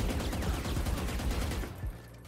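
A full magazine emptied into Sage's Barrier Orb in Valorant: sustained automatic fire, loud and continuous, breaking off near the end into quieter game ambience.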